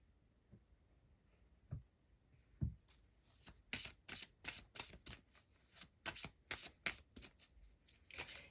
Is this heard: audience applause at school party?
no